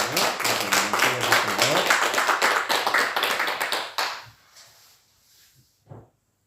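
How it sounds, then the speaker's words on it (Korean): Congregation at a Wednesday evening church service gives an enthusiastic round of clapping after worship, loud and dense for about four seconds before stopping abruptly, followed by a few faint scattered sounds. "우리 하나님께 영광의 박수 올려드립니다"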